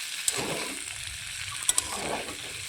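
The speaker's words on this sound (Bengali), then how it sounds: "বেগুন আর আলুগুলোকে একসঙ্গে নেড়ে চেড়ে দিয়ে জল দিয়ে দেবো।" Eggplant and potatoes being stirred together in a frying pan, with a steady low sizzle and two or three soft spatula scrapes against the pan.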